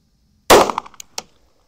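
A single 9mm pistol shot with a standard primer, fired over a chronograph. It comes as one sharp, loud crack, followed by quick clattering echoes that fade within a second, with no talking.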